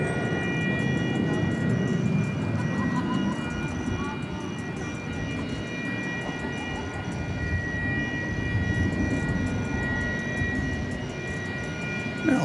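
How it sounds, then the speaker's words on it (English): A tri-jet airliner departs DFW Airport at night, giving a broad, steady jet roar that holds for the whole stretch, with a faint high whine on top. "off to Louisville goes that tri-jet"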